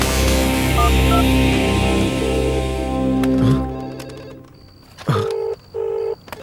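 A telephone rings nearby in a dramatic film scene, with steady electronic tones sounding in short repeated bursts after a loud backdrop of music fades out.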